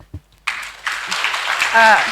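Applause welcomes an invited expert at an academic exchange event at a botanical garden, rising after a brief spoken cue and continuing as a steady clapping wash, with a voice over it near the end.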